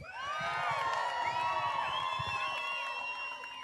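A high school crowd at a bass fishing tournament screams and cheers for their team, a loud sustained wall of shrill whoops and yells that holds steady for several seconds before easing slightly at the end.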